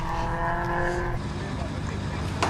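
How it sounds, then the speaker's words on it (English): A Puma Cup race car running on a circuit, its engine a steady, loud, droning roar that holds throughout, with commentary talk faintly mixed in. "So there is the number 70 car."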